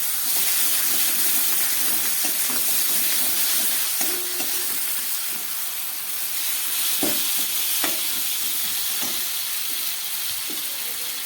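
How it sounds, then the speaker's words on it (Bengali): Fish curry sizzling and frying in a pan after a splash of water and some tomato go in, with steady hissing throughout and repeated stirring scrapes and knocks close by, no talking. "আবারও খুব ভালো করে আমি ভেজে নিচ্ছি। এবার দিয়ে দিচ্ছি একটু টমেটো।"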